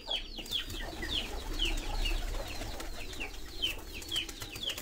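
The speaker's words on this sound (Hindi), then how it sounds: "एक ये रामपुरी जोड़ा है, पुराने रामपुरी कबूतर हैं जी हमारे" Old Rampuri pigeons kept for sale in Sialkot, a pair cooing and burbling in a loft, with repeated soft calls spread across the moment over a low hum, fairly close but quiet.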